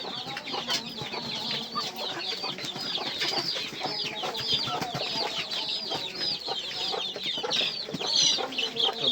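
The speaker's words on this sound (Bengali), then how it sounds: "এই যে আমার সেই শখের ব্রাহ্মার মুরগি" Brahma chickens cluck in a steady, overlapping chatter close by, with short sharp calls repeating throughout and no talk.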